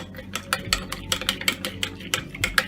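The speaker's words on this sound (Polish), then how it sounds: "Dam troszkę mleka. Wymieszam to." A spoon stirs milk with sugar and crumbled yeast for a starter, quick regular scraping clinks against the bowl, close and clear.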